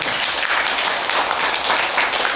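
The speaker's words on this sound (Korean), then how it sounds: "박수 한번 주십시오." Audience applause at a Buddhist Wednesday dharma talk, a steady wash of many hands clapping that fills the whole moment without a break.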